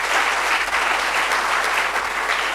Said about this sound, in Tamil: அவங்களுக்கு நல்ல கைத்தட்டல் கொடுங்க பார்ப்போம்.